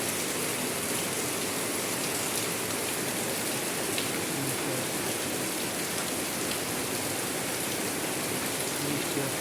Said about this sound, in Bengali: এইরকম বৃষ্টি হচ্ছে উত্তরবঙ্গে